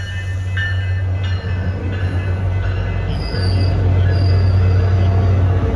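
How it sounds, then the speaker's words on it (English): A SunRail commuter train with a cab car leading rumbles past close by at Sanford station, a steady low drone of engine and wheels with faint high squeals, loud and continuous throughout. "The first train we see here is southbound train 317 with cab car 2003 at the lead."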